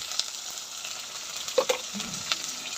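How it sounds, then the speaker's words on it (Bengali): Spice paste of chili powder, turmeric and coriander sizzling as it is sautéed in a pan for a vegetarian soybean dish, a steady crackling hiss with a few spoon clinks and scrapes. "ভালো করে সাদা খাই নেব মশলাটা কষানো হয়ে গেছে"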